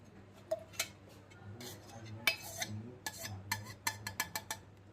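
Egg being mixed into a homemade milk pudding mixture, with a utensil ticking and clinking against the bowl in a quiet, irregular series of taps.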